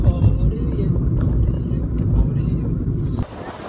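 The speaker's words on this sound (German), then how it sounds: "Es ist echt windig." Strong wind buffets the microphone in a constant low rumble, then drops off abruptly near the end.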